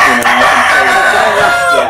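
A Dorking rooster crows loudly and close by in one sustained call, with other fowl faintly clucking beneath it.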